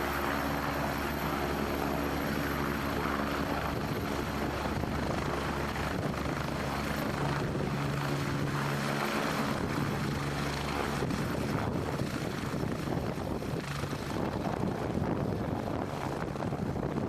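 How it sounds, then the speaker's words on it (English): A helicopter takes off with a steady, loud rotor and engine drone throughout, its tone shifting slightly as it lifts, with wind buffeting the microphone. "Watch the following clip of a helicopter takeoff"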